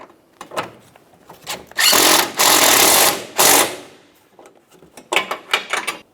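A power tool with a socket extension snugs up the headlight assembly bolts on a 2012-2015 Honda Civic in three loud, sustained whirring bursts, set between quieter clicks and handling noises.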